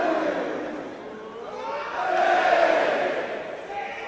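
A wrestling crowd at a live World Cup semi-final match cheers and roars continuously, swelling louder midway, with only a faint trace of speech in the mix.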